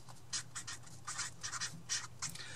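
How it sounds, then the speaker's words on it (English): Marker or chalk squeaks and scratches across a classroom board as a word is written, a quick series of short strokes, close and fairly quiet, with no voices. "I'm gonna write here quotient."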